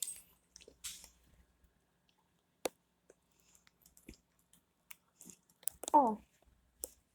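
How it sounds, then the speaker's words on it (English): Crunchy Ruffles potato chips on pizza being chewed close up, sparse soft crunches and clicks amid quiet, with a brief voice near the end. "I felt the crunch of the Ruffles."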